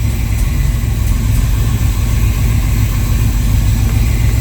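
A Jaguar Series 1 XJ6 engine idles close and loud, its steady low rumble running on evenly with no talk over it.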